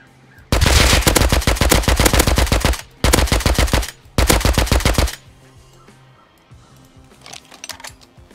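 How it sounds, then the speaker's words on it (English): Rust video game gunfire: three long, loud bursts of rapid automatic fire separated by short pauses, followed by quieter, more distant shots toward the end. "Someone's getting shot at."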